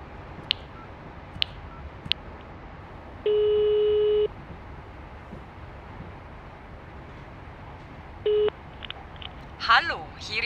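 Several short telephone dialing clicks, then a long steady ringback tone and a second shorter one, with faint background noise and a brief voice at the end.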